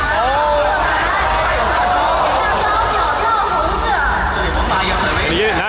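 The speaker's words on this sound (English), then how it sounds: "The crowd seems to like it." Spectators at a live game event in Shanghai, a dense steady murmur of chatter and crowd babble close around, continuous throughout with no clear individual voices standing out.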